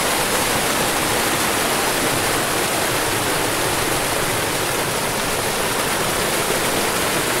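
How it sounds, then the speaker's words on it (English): A small waterfall roars in a steady, dense rush of falling water that stays constant and close throughout, with no voices. "So this waterfall is a small waterfall, and you cannot drown in this."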